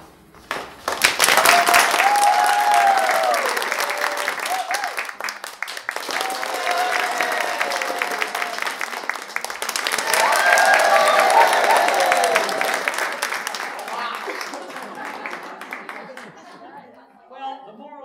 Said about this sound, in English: I want you to applaud for the contestant who you think has real pain.